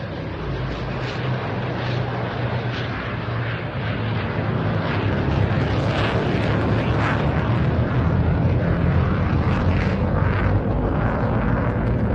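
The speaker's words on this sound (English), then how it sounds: "Let's turn our attention back now to the Lancaster and the Typhoon running in from the front" Loud, continuous roar of a Lancaster bomber and a Typhoon jet passing overhead at an air festival, a deep rumble that swells and grows louder toward the end, with no voices.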